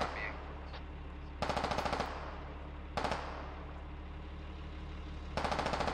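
Incoming gunfire in the military shooter game Squad: three short bursts of rapid automatic fire cut through a steady engine rumble, each burst loud and crackling against the constant vehicle drone.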